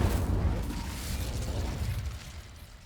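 An Incendio fire spell cast in Hogwarts Legacy erupts as a dense, roaring whoosh of flame, loud at first and slowly fading over a few seconds with no talking.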